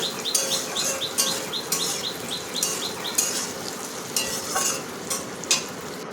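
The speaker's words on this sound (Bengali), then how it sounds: "সব কিছু ভালো করে একসঙ্গে মিশিয়ে নাড়াচাড়া করে নেব।" A spiced tomato mixture is stirred in a pan with a regular rhythm of spoon scrapes, each stroke bright and near, over a soft sizzle of frying.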